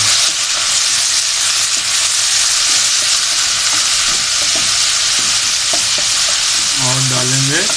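Chicken chow mein noodles being stir fried with soy sauce in a hot wok, producing a loud, dense, roaring sizzle throughout with faint utensil knocks and a brief tonal squeal near the end.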